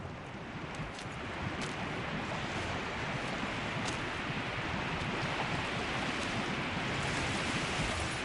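Flowing water in Horizon Zero Dawn: The Frozen Wilds gives a constant, dense rushing wash that holds an even, fairly loud level throughout, with no other sounds standing out.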